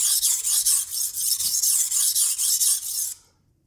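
Steady rhythmic scraping of a Griphinity Pegasus knife with AUS-10 steel blade stroked across a whetstone, bright and gritty, repeated in quick even passes, close up with no talking.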